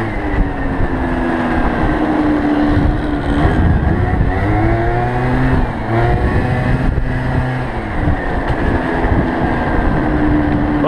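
An MBK Booster 50 scooter engine drones loud and continuous while riding, its pitch sweeping up and down as it revs, with wind noise throughout.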